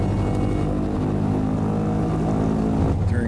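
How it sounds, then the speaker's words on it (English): Piston engines of a Douglas DC-3 airliner, the American Airlines Flagship Detroit, running up on the ground for magneto and propeller checks: a steady, loud, throbbing drone with deep harmonic rumble, continuous throughout. "They'll run up the engines here and check the magnetos and the props."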